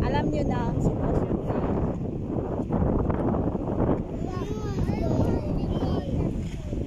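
Strong wind buffets the microphone throughout at an outdoor park by Kuwait Towers, a constant low roar with voices talking underneath.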